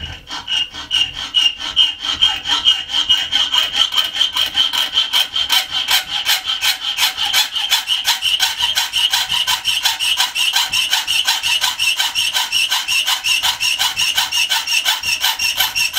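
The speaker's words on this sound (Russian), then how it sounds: "Так, нижнюю часть мы отпилили." A hand saw cuts through a metal key blank clamped in a vise, with close, rapid rhythmic back-and-forth rasping strokes that run continuously and evenly throughout, and no talk.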